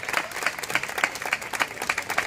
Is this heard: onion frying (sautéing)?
no